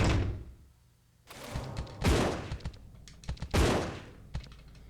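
Gunfire in Resident Evil Zero HD Remaster: a few sharp, loud broadband bursts after a quiet start, spaced unevenly with shorter clicks and thumps between them.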